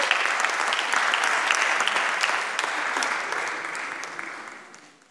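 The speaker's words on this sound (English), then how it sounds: "I want everyone to give yourselves a round of applause." Sustained applause from a seated audience at a Torah study-day gathering in Los Angeles, steady and dense for several seconds before gradually thinning and fading out.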